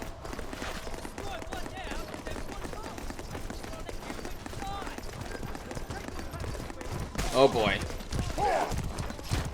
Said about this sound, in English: Horses are kind of just like vehicles that spawn on the map that you can ride.